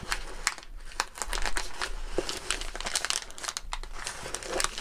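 Close crinkling and rustling of packaging as a parcel of plants is unwrapped, a busy run of crisp crackles throughout.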